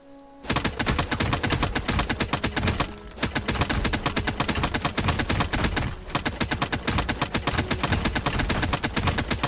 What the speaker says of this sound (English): Because it sounds like, almost like a Gatling gun.